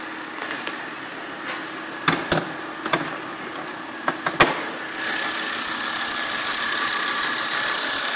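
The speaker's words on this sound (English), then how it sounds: "show you this excellent motor that they've actually chucked in this Volvo" A Volvo C30 R-Design engine idles steadily with a low hum, punctuated by a few sharp clicks and knocks, then the idle grows slightly louder and fuller.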